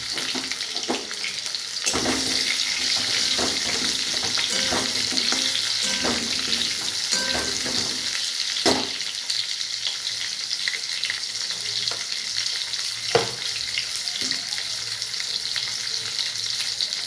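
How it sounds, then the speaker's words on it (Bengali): Chopped onion frying in a pan for a quick meat curry: a steady, close sizzle running throughout, with occasional stirring scrapes and light knocks, no talking. "আর হাফ পেঁয়াজ কুচি করে রেখেছি, সেটা এখন দিয়ে দেব।"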